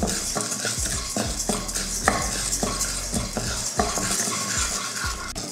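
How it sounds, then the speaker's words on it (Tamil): Toor dal dry-roasting in a kadai, stirred with a spatula in repeated scraping strokes against the pan, with a light crackling sizzle underneath and no talking. "அதில் ஒரு 25 கிராம் அளவுக்கு துவரம்பருப்பு நல்ல பொன்னிறமாக வறுத்துக்கலாம்"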